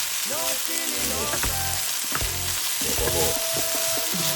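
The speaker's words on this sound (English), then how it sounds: "Frying it up." Carrots sizzling steadily in a hot pan for a Scotch bonnet jerk sauce, a constant loud frying hiss with occasional stirring scrapes and clinks, up close and without speech.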